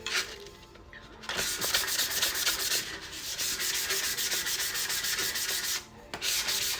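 An 18-ounce Hydro Flask tumbler is hand sanded with paper wrapped around it while it spins, giving a close, continuous scratchy rubbing in long strokes with two brief pauses.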